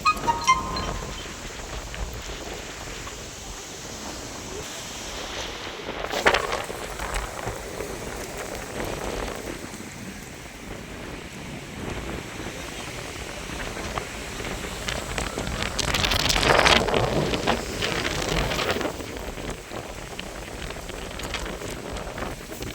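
Steady broadband rush of wind-driven rain, swelling into louder gusts around the middle and again later, with no voices.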